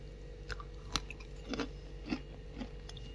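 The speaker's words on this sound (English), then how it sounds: "Ayan, umuusok pa, guys. Ayan, ang sarap yan. Tikman natin." Bites into a loaf of freshly baked, still-steaming cranberry orange bread, giving soft chewing with a few faint crunches spaced about half a second apart, close and quiet.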